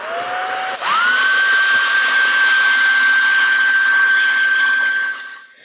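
A hair dryer blows across a wet watercolor canvas, switching up to a higher, steady whine after a brief lower start, then running loud and close before winding down at the end, with no talk.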